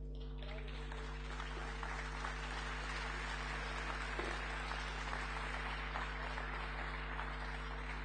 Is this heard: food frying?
no